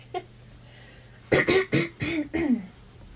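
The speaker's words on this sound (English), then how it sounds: "So I'll just cough away from the mic for a minute." A faint cough, then a cluster of four or five close, loud coughs in quick succession with a bit of throat clearing.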